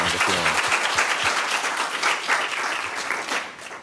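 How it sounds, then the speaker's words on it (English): Warm round of audience applause at an Atlanta forum on small businesses and thriving communities: dense, sustained clapping from a sizable crowd, fairly loud and even, with a few faint voices beneath. "please give Larry McHugh a wonderful warm round of applause."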